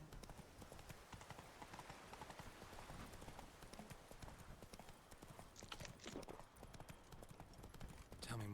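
Roach the horse trots along in The Witcher 3: Blood and Wine, hooves clip-clopping in a steady rhythm with a brief whinny, game ambience and faint voices underneath.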